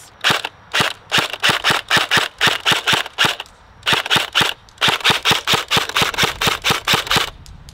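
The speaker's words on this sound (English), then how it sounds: "So now I guess we gotta go outside and shoot this bad boy." An airsoft Tommy gun fed from a wound drum magazine and powered by a LiPo battery fires outdoors in long rapid full-auto bursts, loud and close, with brief pauses between strings of sharp cracks.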